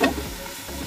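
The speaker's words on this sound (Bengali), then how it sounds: "এটাকে নাড়বেন।" Chilli chicken gets stirred in a hot pan, giving a short scrape and a burst of sizzling that settles into a steady frying hiss.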